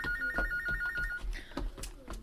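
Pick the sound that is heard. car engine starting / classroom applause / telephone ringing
telephone ringing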